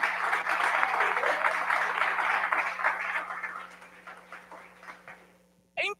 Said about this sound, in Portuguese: Quem aplauda, aplauda